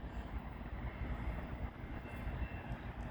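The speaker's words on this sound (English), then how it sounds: "Southbound ethanol, southbound empty oil train from the CN Champaign Chicago sub with the Wisconsin Central Heritage Unit." A southbound CN empty ethanol oil train with a Wisconsin Central heritage unit and ET44AC, SD70M-2 and ES44DC locomotives rolls past on the Champaign–Chicago subdivision, giving a steady, continuous rumble with no voices.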